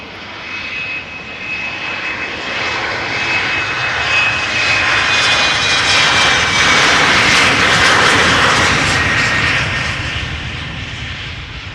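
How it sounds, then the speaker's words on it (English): KLM Embraer 190 jet, in service since 2009, taking off at Amsterdam Schiphol for Bordeaux: a loud engine roar swelling to a peak mid-run then easing off, steady and continuous, with no talk over it. "Here we have KLM flight 1295 going to Bordeaux. It is an Embraer 190, 14 years old, first flight June 2009."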